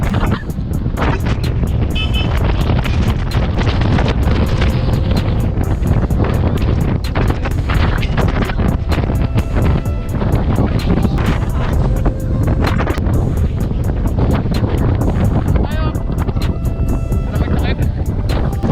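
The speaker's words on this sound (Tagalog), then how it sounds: "Sobrang lakas ng hangin." Strong wind buffets the microphone throughout, a dense, continuous low roar with no letup across the whole stretch, in Tagaytay.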